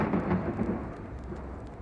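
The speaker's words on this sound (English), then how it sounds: "The sounds of cracks of lightning, fire, and screams of terror." Tabletop fantasy game ambience of rolling thunder and steady rain, a continuous low rumble at moderate volume with no voices over it.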